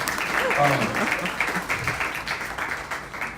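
Crowd at an Iowa town hall applauds, a sustained patter of many hands that slowly thins toward the end, with a voice heard over it early on.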